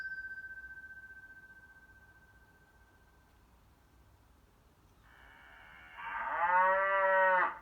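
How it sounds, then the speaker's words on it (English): A cow gives a long, loud moo near the end, after several seconds of a faint tone and quiet background. "Shall we listen to the cows again?"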